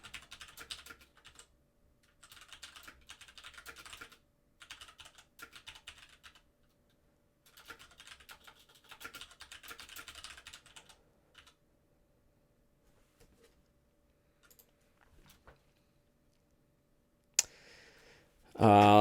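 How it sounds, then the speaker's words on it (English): Bursts of rapid typing on a computer keyboard during tabletop game prep, close and crisp, coming in short runs separated by pauses, then fading out before a louder noise at the end. "So I've been typing a lot."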